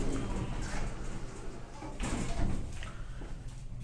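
Glass Otis lift doors, originally 1981 Otis Europa cars in a Dublin shopping centre car park, slide shut with a soft mechanical whirr and a light thud, heard close under faint mall ambience.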